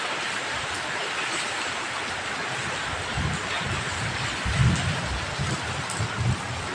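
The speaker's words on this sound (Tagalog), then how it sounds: "Lakas ng ulan na naman." Heavy rain pours down in a dense, continuous roar, loud and close, with low rumbling surges building in its second half.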